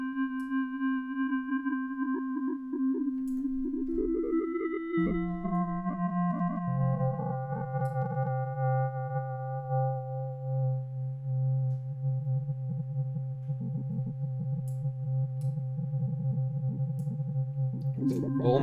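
An Arturia Pigments synth preset with a fast LFO on the harmonic engine plays sustained sine-like tones that step between pitches, with chirpy, crackling static-like interference flickering over them, continuous and alone.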